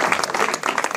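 Audience applause at the inauguration of a riverside Seine venue, a dense, steady patter of clapping hands filling the whole moment with a faint murmur of voices beneath.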